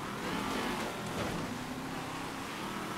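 Infernus sports cars race in GTA Online, a steady, moderately quiet engine hum with slight revving throughout.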